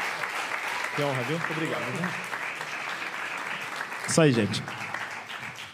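Audience applause at a Brazilian choro concert at Sesc Consolação, a steady clapping bed running under someone speaking into a microphone, with a brief louder swell near the end.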